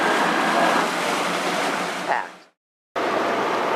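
Steady rush of engine and churning water from a passing vaporetto water bus on a Venice canal, fairly close, ending abruptly in a brief silence before the wash resumes.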